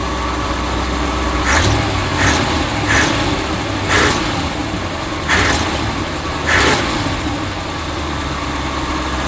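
The engine of a 1976 motorhome idles close by with a steady low rumble, broken by several brief stutters or surges spaced a second or two apart before it settles again.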